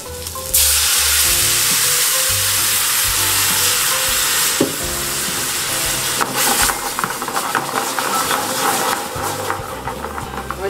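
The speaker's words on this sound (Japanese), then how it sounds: "サーモンこんな感じでね表面ちょっとだけ 気がそっとね入ってきたなーっていう感じになりましたら白ワイン入れていきます" White wine poured into a hot pan of searing salmon for a cream-free pasta sauce, a loud hissing sizzle bursting in and then settling into steady bubbling frying, with no talking.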